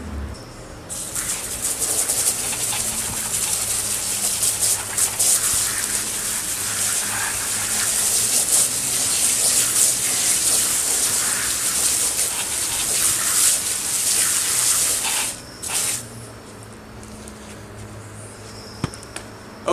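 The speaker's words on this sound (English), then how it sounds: "So now I'm going to get some water in there." Water gushes steadily into a Colocasia gigantea Thailand Giant plant pot, a loud continuous pour lasting most of the span before cutting off, with a few small clinks near the end.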